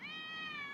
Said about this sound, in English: Get off there, cat!